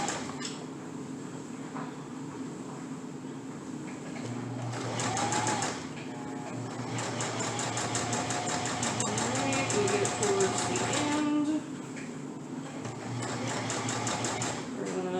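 A sewing machine stitching and back stitching a seam on a homemade fabric face mask, its rapid mechanical whir running in bursts that stop and restart, with brief pauses between runs.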